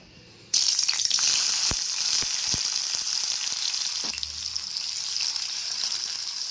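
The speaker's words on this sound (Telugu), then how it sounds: "ఇదే కళాయిలో మనం టమాటాని కూడా ఫ్రై చేసుకోవాలి లైట్గా" Tomatoes fry lightly in a kadai. A bright, steady sizzle starts abruptly and continues close, with a few soft clicks of a spoon against the pan.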